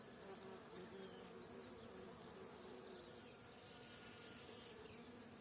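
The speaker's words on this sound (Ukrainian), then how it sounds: "Бджілки на маковому полі." Bees buzz busily over a poppy field, a dense continuous hum of many insects nearby with faint wavering tones, quiet overall and without talk.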